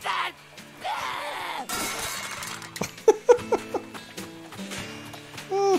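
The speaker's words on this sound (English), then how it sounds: "I feel like smashing something!" Breakable objects smash in the video game Figment as a quick series of sharp crashes and clinks, amid groaning and laughing character voices and game music.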